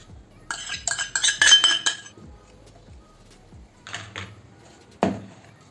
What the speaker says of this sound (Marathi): दही जे आहे तेही आपण फेटून घेऊया